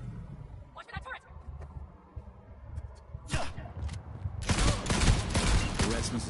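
Turret gunfire rattles in rapid bursts in the video game Cyberpunk 2077, loud and dense in the second half, with voices talking over the shooting.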